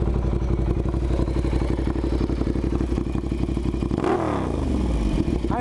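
A 2015 carbon Ducati Diavel motorcycle engine idles close by with a rapid, even clatter, then gives one quick rev that rises and falls before settling back.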